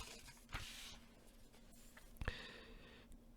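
Faint, scratchy pen strokes on paper come in a few short bursts against a quiet room, with no talking.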